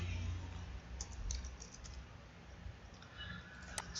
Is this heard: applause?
no